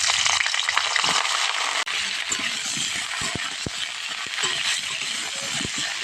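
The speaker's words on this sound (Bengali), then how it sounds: "আলু ভেজে তুলে নিয়েছি, এবার ফুলকপিটা ভেজে নিচ্ছি।" Cauliflower frying in mustard oil in a pan, a loud continuous crackling sizzle close up, with occasional sharp clicks and light knocks from a utensil.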